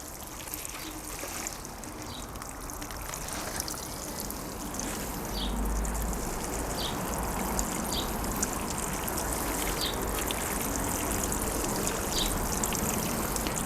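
Divided Primula bulleyana plants get a steady, generous watering, a continuous close trickle and pour of water running for several seconds without talk.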